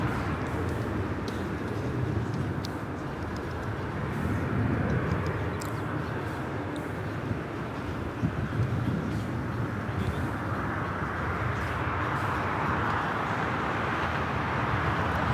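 An EVA Air airliner taxies at LAX and turns onto a taxiway, its engines giving a steady, moderately loud broadband whine and rumble with faint clicks and background airport noise.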